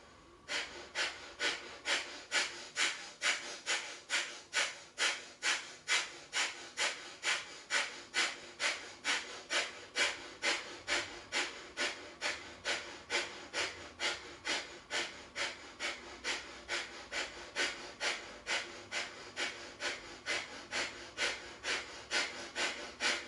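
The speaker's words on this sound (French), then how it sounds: "on va refaire une deuxième fois cette respiration du feu" Breath of fire in a hatha yoga session: rapid, forceful nasal exhales pumped in a steady rhythm of about two per second, dozens in a row, close and clear with no speech.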